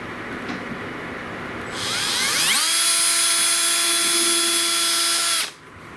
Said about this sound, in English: we're going to drill the second one